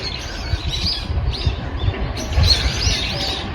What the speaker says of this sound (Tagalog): Ang ganda ng huni ng mga ibon, oh.